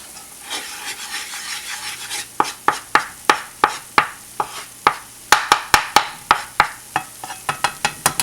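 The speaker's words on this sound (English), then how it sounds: "It's really hard to stir this with one hand, but I'm gonna try anyway." Bell peppers being stirred in a pan for crawfish pie filling: a scraping rub at first, then a steady run of sharp, close scrapes and knocks repeating about twice a second.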